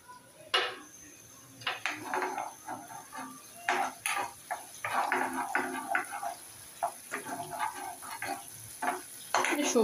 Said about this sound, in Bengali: ডিমটা একটু স্ক্রাম্বল করে নেব।